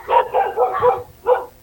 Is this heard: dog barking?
yes